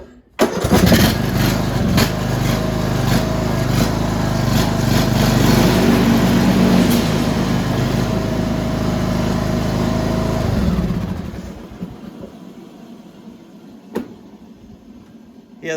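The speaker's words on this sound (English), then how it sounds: "Let's go ahead and start her up and see." A small gas lawn mower engine fires up after a recoil spring repair and runs loud and steady with a buzzing drone for about ten seconds, then cuts off and leaves faint background noise.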